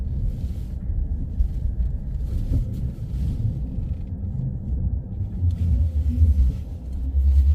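A 2025 Ford Maverick Hybrid climbing a snowy hill at night, heard from inside as a steady low rumble of engine and road noise with a few brief louder swells and no talk.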